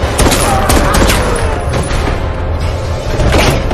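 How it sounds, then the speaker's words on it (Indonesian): Dense gunfire from a No Time To Die film action scene: a loud, continuous barrage of overlapping shots and booms with no quiet gaps. "Bond diam-diam mengambil pistol tersembunyinya, kemudian membunuh beberapa penjaga Safin"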